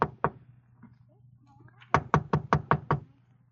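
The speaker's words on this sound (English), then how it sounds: "I knocked." A fist knocks on an apartment door in an old-time radio detective drama: two raps, a pause with faint background sound, then a crisp run of about seven even knocks, close and clear.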